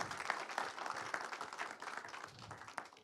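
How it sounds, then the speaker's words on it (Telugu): Audience applause fills a hall at a launch event for the Telugu film Bhagavanthudu as its producer is welcomed to the stage: dense, steady clapping from a large crowd, loud and continuous, fading slightly toward the end. "గట్టిగా ఒకసారి క్లాప్స్ అండి"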